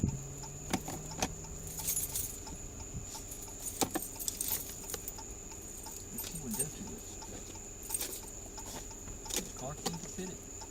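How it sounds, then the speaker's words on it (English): Keys jangle in several bright, scattered bursts through a deputies' arrest scene, close and fairly loud, with voices talking intermittently around them. "There's keys right there."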